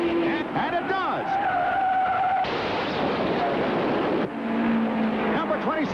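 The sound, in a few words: race cars skidding into the infield at 1967 Indianapolis 500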